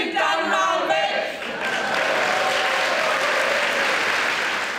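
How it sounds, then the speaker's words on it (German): Loud, sustained applause from a theatre audience after an amateur play's performance, dense clapping that sweeps through the room and holds steady throughout, with a few excited voices over it at the start. "Der tosende Applaus war dann auch der höchste Lohn für die einjährige Vorbereitung"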